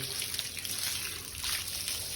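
Cold tap water runs in a steady, fairly loud hiss-and-splash stream, close by and uninterrupted, with no voices.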